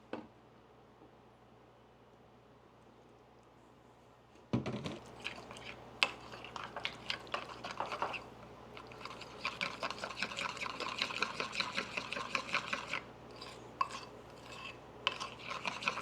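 A whisk scrapes and clinks through powdered sugar and milk in a small bowl for Christmas cookie icing, starting after a quiet stretch with a sharp knock, then continuous rapid scratching and tapping close by.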